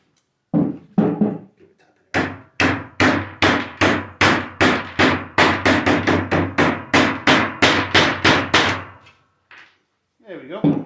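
A hammer strikes bent metal while a toy car ramp is being made: a couple of knocks, then a rapid, even run of about twenty sharp, loud metallic taps close by, ending with a few stray hits.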